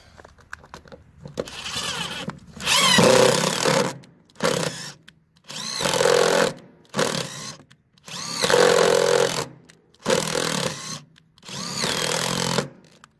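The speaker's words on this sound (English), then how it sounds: "I'm just running it up and down like that to make the thread cutting so that we get good thread." Threads being cut with a power tool during a LilliPad diving board installation on a Bennington SX21 pontoon boat, a loud whirring drill-like grind in several bursts run up and down, separated by short pauses.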